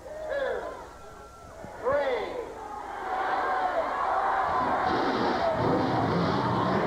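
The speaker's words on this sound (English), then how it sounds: "the crowd giving the drivers the command to start their engines" At a NASCAR race at Silver Spring Speedway in 1992, the crowd shouts the start-your-engines command. A few drawn-out yelled calls swell into a sustained, loud roar of crowd noise.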